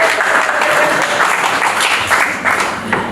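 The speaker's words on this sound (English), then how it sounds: "Give him a round of applause." A seated audience at a talk gives a dense, steady round of applause, loud and close, filling the whole moment with continuous clapping.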